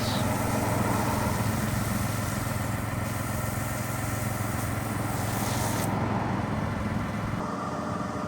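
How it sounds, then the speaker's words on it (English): Engine of a pressure washing machine warming up before pumping cleaning chemicals through the hose, a loud, steady, close mechanical drone with a constant buzzing hum that holds even throughout, with no talking. "Here's my dad warming up the machine so the hose can start pumping the chemicals"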